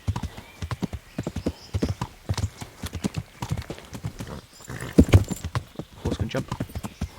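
Galloping horse in the video game Kingdom Come: Deliverance, rapid rhythmic hoofbeats pounding close throughout, with a brief snort or whinny midway and voices faintly in the background.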